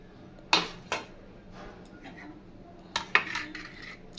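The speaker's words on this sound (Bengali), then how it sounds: "এবার আমি এই ডিমটা পিস করে নেব মাঝে" A knife and utensils clink and tap against a plate while a boiled egg is cut into pieces. Sharp clicks come in two short clusters with quiet pauses between, close and moderately loud.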